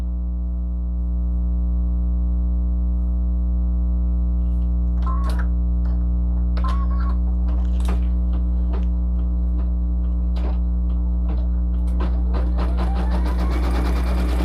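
An embroidery machine sews a satin stitch on a hooded towel, a steady mechanical hum with a regular run of stitching clicks that thicken toward the end, close and continuous with no voices.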